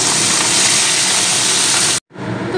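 Rohu fish frying in hot mustard oil, a loud, steady broadband sizzle that cuts off sharply for a moment near the end before resuming at a lower level.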